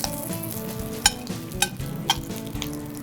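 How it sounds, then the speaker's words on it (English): Maitake mushrooms sauté in butter in a pan, with a continuous crackling sizzle and three sharp clicks from stirring utensils spaced evenly apart. No one speaks. "We saute these off nice and golden brown in some butter."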